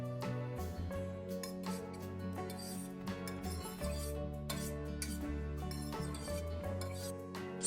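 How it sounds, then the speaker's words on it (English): Ramen, eggs and cheese stirred together in a pan, with steady scraping and light metallic clinks of a utensil against the pan under continuous background music. "Stir all ingredients together until well combined."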